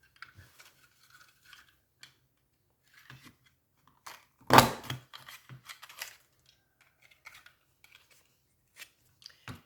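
Scissors cut a large circle of fabric in quiet, scattered snips and soft clicks, with one louder crunching cut in the middle and faint handling noises around it.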